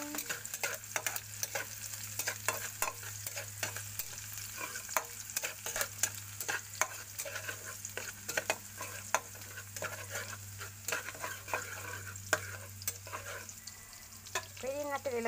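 Onion and garlic sizzle steadily in a hot pan at a low level, with frequent sharp scrapes and taps of a utensil stirring them in a brisk, irregular rhythm.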